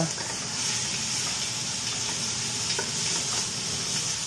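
Mung bean dish ingredients sautéing in a pan, a steady close sizzle with light stirring scrapes throughout and no talking.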